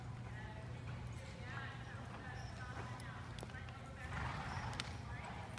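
Horse lopes on the ground in a riding lesson, hooves thudding in a soft, even rhythm at a distance, with background noise and faint voices around.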